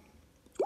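A single water drop falls from a faucet with a short, bright plop after near silence, faint and close.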